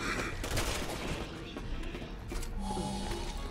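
Gunfire in the video game Resident Evil 6, rapid overlapping shots and bursts with crashes that sound dense and continuous, with game effects and a faint tone near the end.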